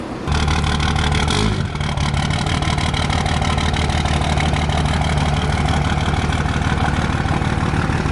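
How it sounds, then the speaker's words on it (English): A Cummins diesel truck engine running as the truck reverses all the way out: a loud, close, steady low idle-like rumble with a continuous throb and a brief dip near the start, with no talk. "Sweet Cummins, bro. He's reversing all the way out."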